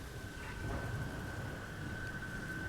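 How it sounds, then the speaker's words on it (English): Pounding rain as an ambience effect, a dense, steady wash with a low rumble beneath and a faint sustained tone running through it, heard alone without voices. "you hear nothing but pounding rain"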